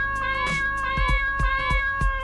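A cat in the video game Dave the Diver meows several times in quick succession, close and clear, over a bright, steady musical background.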